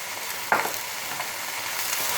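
Radish greens stirred and seared in a pot for soup, a steady close sizzle with one sharp scrape of the spoon near the start, continuing alone without talk.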